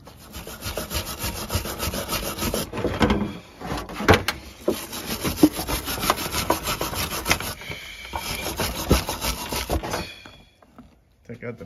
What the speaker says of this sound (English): we're gonna wire brush that where the hardware goes a little bit